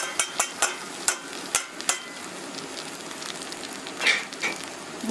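Boiled noodles are stirred in a frying pan with tomato: a series of sharp utensil scrapes and taps against the pan over a soft, steady sizzle, later easing into gentler stirring.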